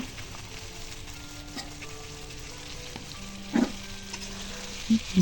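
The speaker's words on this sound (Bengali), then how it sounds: "বরবটিগুলো এর পর্যায়ে একটু নেড়ে নেব তেলের সঙ্গে" Yardlong beans frying in hot oil give a steady, fairly quiet sizzle with a few short clatters of stirring toward the end, no voices.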